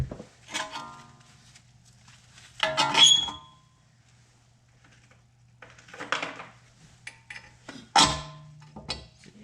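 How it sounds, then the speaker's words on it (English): A drain pan is set down beneath a 1999 Toyota Camry during a front brake job, giving a few brief clattering scrapes and knocks close by, with quiet pauses between them and no talking. "I'm gonna just put my drain pan here."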